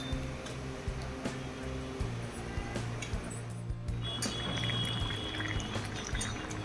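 Water is poured into a potato and flat bean curry in a pot, making a continuous close splashing pour with some light ticking in the background and no voices.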